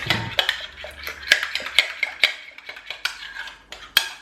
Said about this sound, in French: Je viens la détendre un petit peu avec une cuillère.